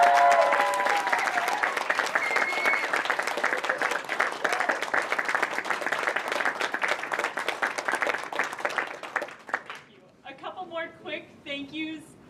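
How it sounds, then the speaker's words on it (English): Audience applause at a choir concert, a sustained, even patter of many hands that fades over about ten seconds, after which a voice starts speaking alone. "please give her a big round of applause."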